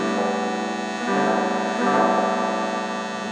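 An electric guitar on a custom curved tri-tail build, its pickups wired in series, rings out with thick, sustained strummed chords. Two new strums swell in partway through, with no voices.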